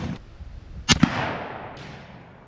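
A single 30-30 Winchester rifle shot, one loud, close, sharp crack followed by a short trailing echo that fades into quiet outdoor ambience.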